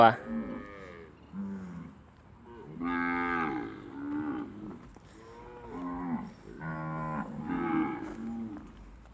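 A herd of more than a thousand cattle moo repeatedly in a grazing field, several drawn-out calls rising and falling at moderate distance, with no talk over them.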